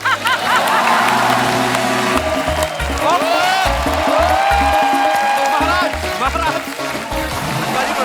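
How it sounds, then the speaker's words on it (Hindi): A studio audience at a comedy show breaks into loud, sustained applause and cheering, mixed with music and voices for the whole stretch. "जोरदार तालियां हो जाए अनुपम सर के लिए"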